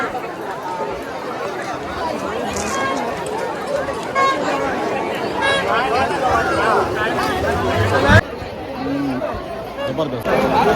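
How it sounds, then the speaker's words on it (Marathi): Dense crowd milling at the Kunkeri Hudotsav festival fair, a steady babble of many voices and footsteps with a speaker talking close over it. "तर मंडळी आग्नेवाडी सारखी गर्दी आहे आग्नेवाडी सारखी."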